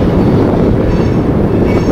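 Coal train rumbling across a railroad trestle in Raleigh, West Virginia: a steady, loud low-frequency roar with wind buffeting the microphone and no pauses or talk.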